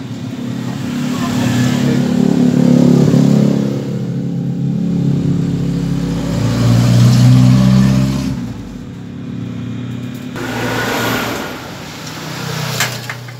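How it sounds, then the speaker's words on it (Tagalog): A TMX155 motorcycle engine idles and revs close by with a noisy rocker arm, the rumble rising and falling over several seconds with a rattly mechanical edge. "ito po yung rocker arm na napakaingay po nito"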